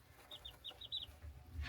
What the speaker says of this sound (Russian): Вот она, курочка.